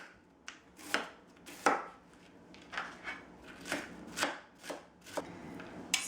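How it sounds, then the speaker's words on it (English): Cabbage chopped with a knife on a cutting board, its hard core cut through in about ten sharp, separate knocks at an uneven pace, close and clear with no talking. "Going to chop the hard portion of the cabbage"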